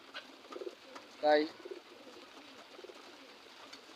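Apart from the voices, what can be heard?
pigeons cooing in a pigeon house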